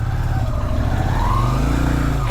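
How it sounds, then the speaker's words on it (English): A 1994 Yamaha Virago 250 cruiser motorcycle engine idles steadily and close, with a smooth, even low throb and no talking. "choke is off, and the bike is running well"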